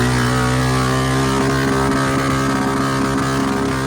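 Honda Rancher 350 ATV engine screaming at high rpm against the rev limiter, a loud, sustained buzzing roar with rapid stuttering cuts throughout, no talking.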